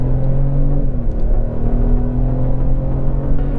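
Four-cylinder engine of a 2025 Ford Explorer ST-Line pulling under acceleration, a loud close droning hum with rising and shifting engine tones, heard steadily with road rumble and no talk.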